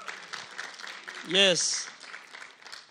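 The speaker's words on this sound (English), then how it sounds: "Let's give every one of them a round of applause." Church congregation at a Saturday youth service applauding, a loud whoop rising over the clapping midway, with a voice talking throughout.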